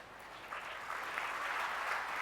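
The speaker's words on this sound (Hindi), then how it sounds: "ताली आपने पहले बजा दी," Audience applause fills a convocation ceremony hall, a steady wash of many hands clapping that swells slightly and holds for a couple of seconds, with no speech over it.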